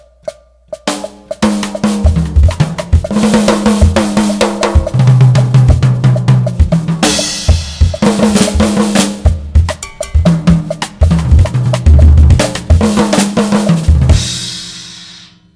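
Energetic Latin jazz drumming improvises, with busy cowbell, toms and cymbal hits in shifting syncopated patterns, loud and close.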